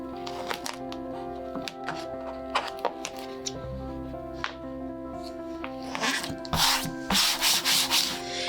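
Vinyl stencil is rubbed down onto a screen-printing screen, producing close, repeated dry scraping and rubbing strokes that grow louder and faster toward the end, over a steady background hum.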